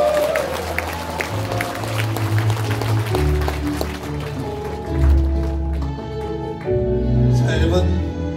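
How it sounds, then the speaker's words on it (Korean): An audience at a Korean gathering applauds in a steady patter of claps over background music, with crowd noise swelling and fading across the stretch. "큰 박수 꼭 한번 보내주시기 바랍니다."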